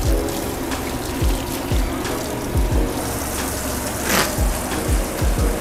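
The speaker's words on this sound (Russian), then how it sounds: "Обязательно моем руки, желательно делать по локоть нам с тобой." A tap runs continuously while hands are washed in a kitchen, with water splashing and trickling into a sink in irregular gurgling bursts, close and fairly loud, without voices.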